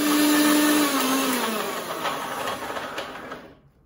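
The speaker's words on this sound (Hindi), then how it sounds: "अभी हम इसको ग्राइंड कर लेंगे" A kitchen blender grinds a green smoothie of vegetables, kiwi, mango, cucumber and sweet lime juice, starting at a loud high whine that dips in pitch and fades to silence as the motor stops.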